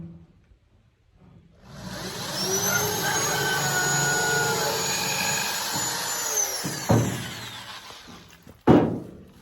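A power drill bores a hole in wood for a chicken run door, a loud sustained whine that winds down near the end, followed by two sharp knocks close by.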